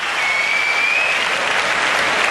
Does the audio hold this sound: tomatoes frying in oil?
no